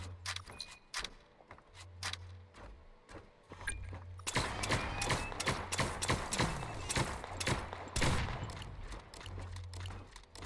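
Rapid-fire weapon in The Signal From Tolva, sharp clicking shots in quick irregular bursts that thicken into dense fire midway, over a low pulsing engine-like drone, moderately close.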